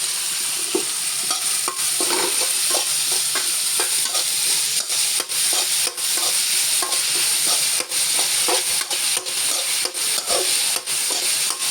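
Sliced onions with salt sauteing in a pan, a steady loud sizzle running throughout, broken by frequent scraping strokes of a spatula stirring them close up.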